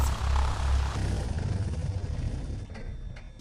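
A Cessna 172 engine in the FSX flight simulator shuts down at mixture idle cutoff, a loud propeller drone that gradually winds down and fades over a few seconds, with no talk.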